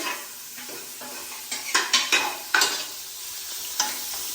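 Cauliflower sautés in a hot pan. A soft background sizzle runs under a cluster of sharp scraping stirs and clinks from a utensil against the pan, all near, with no voices.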